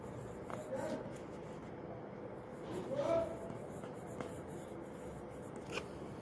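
Pen writing the word papaya in a school workbook, soft scratching strokes close by with a few small taps, under a teacher's speech.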